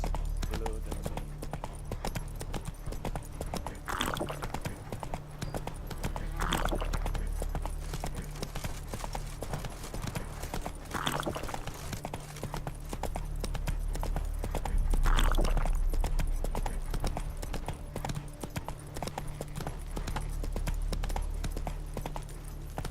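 Roach the horse gallops in The Witcher 3: Wild Hunt, a steady rhythmic clip-clop of hooves running throughout over a low ambient game backdrop, with brief voice-like swells from the game.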